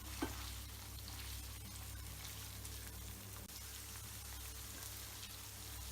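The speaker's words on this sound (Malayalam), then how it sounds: "നമ്മളിത് നന്നായി ഡീപ് ഫ്രൈ ചെയ്ത് എടുക്കാം ചിക്കനൊക്കെ." Chicken pieces deep fry in hot oil for butter chicken, giving a continuous close, even crackling sizzle with faint stirring over a low kitchen hum.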